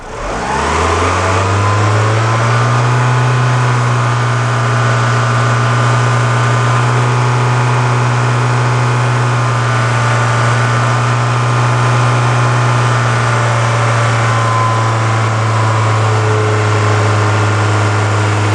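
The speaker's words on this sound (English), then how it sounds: "Increase the speed of the engine and open the propane." A car engine runs loud and close, revving up and holding a high steady drone throughout with no talking, during a catalytic converter cleaning test with propane fed into the engine.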